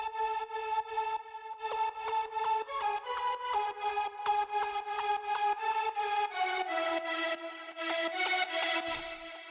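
A bright synth lead fading in for a hardstyle build-up plays a steady rhythmic pattern of notes that rise and grow fuller over time, building tension.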